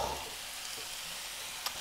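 Mushrooms fry in butter with a close, steady sizzle and crackle, and a few sharp spatters pop out of the hiss.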